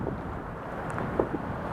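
Winter wind blows across a T-dock on Lake Washington, a steady rushing roar buffeting the microphone, with a couple of faint knocks and no voices.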